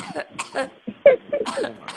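A woman coughs several times in short, close bursts, with a brief throat-clearing sound between them.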